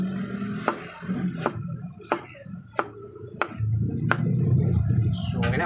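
Fresh ginger is sliced on a cutting board for paksiw na bangus, with about seven crisp, evenly spaced knife chops close by, and a rougher rustling texture building near the end.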